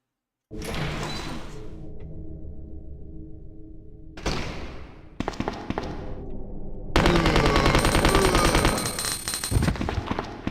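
Gunshots from the classic Resident Evil 2 on Claire's B scenario: a sharp blast with a long echoing tail, then another shot, then a louder run of rapid firing at close range with no voices.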